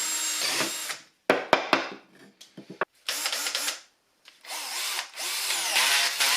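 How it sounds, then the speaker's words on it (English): A Bosch 12 volt cordless drill with an 8mm metal bit whirring in several bursts as it bores into wood, with short pauses and quick trigger taps between runs, close up. "I also used the 8mm metal drill bit and stress tested it in wood."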